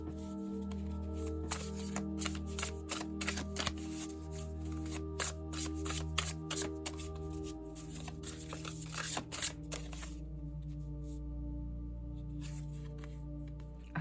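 Tarot cards riffle and snap in a quick, uneven rhythm of shuffling over a soft steady music bed, close and clear, then give way to quieter handling near the end.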